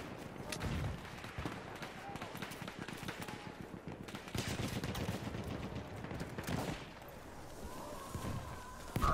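Shotgun fire in the Argon video game match, dense rumbling bursts of shots and impacts in a busy, noisy mix, with some chatter underneath.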